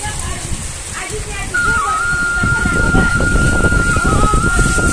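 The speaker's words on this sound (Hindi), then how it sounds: "ओ भाई तगड़ी वाली बारिश" Heavy rain pouring in a village at dusk with gusty wind, a constant loud wash of drops on surfaces, joined partway through by a thin sustained whistling tone and some low rumbling.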